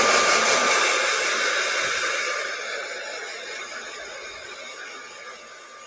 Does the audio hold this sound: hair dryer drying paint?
yes